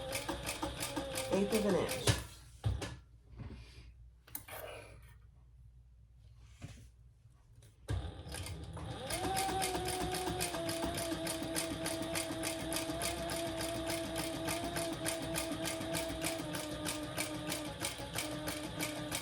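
A sewing machine stitches a small leather-style mini triskele wallet, its fast, steady motor hum running loud and continuous after a brief pause, with a voice talking over the stitching.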